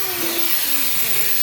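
After a snowstorm a snow blower runs with a loud, steady, broadband roar that fills the short moment, close by and without voices.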